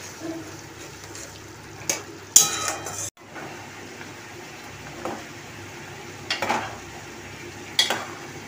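Turmeric and Kashmiri chili powder fried with spices in a pan, stirred with a few sharp scraping clinks of a utensil over a faint, low sizzle; no talking.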